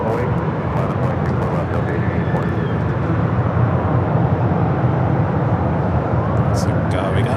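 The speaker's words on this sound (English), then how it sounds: "So we got our first of 3 Japan Airlines flights heading out." Japan Airlines jet departing Los Angeles International Airport, a loud sustained broadband engine roar holding steady throughout, with faint voices in the background.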